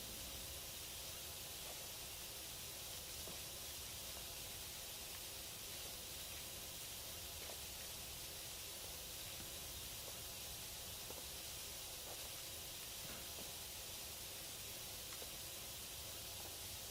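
Steady, hissing pressure-washer spray from a video game, running continuously and evenly at a fairly loud level with no breaks.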